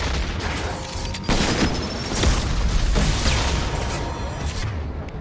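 Explosion in Mass Effect 2 during a prison break sequence, booming bursts and rumbling blasts layered over dense, continuous game noise, loud throughout.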